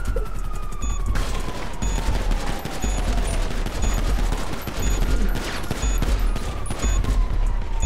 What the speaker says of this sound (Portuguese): A polícia tá atirando nele.